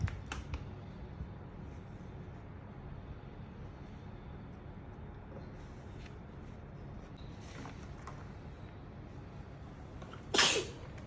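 A single sharp sneeze bursts out near the end, after a long stretch of steady low background noise with a few faint clicks.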